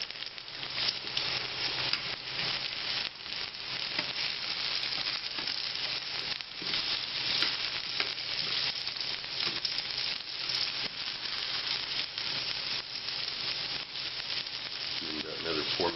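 Fondant potatoes browning in a pan give off a steady, dense sizzle and crackle throughout, close and even.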